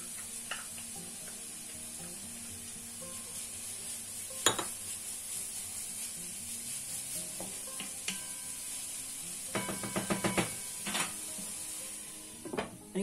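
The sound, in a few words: onions and garlic sizzling in a pan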